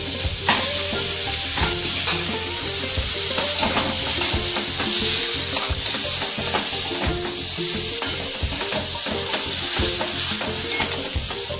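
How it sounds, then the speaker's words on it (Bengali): Mashed potato is stirred and fried in a hot pan, a continuous sizzle broken by repeated scraping spoon strokes at close range, with no voices. "আলুটা ম্যাশ করে রেখেছি, আলুটা দিয়ে দিলাম।"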